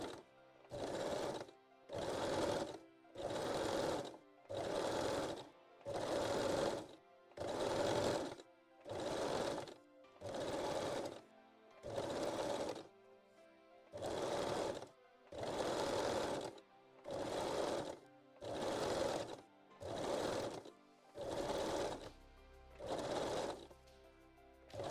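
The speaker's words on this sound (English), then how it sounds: "Try to sew as close as you can to the decorative edge." A sewing machine stitches along the decorative edge of a lace panties waistline in regular bursts of steady whirring, each a second or so long and separated by short pauses, close and clear with no talk.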